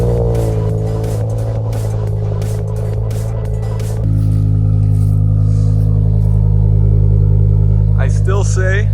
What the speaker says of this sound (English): I still say this is one of the best sounding engines, V10s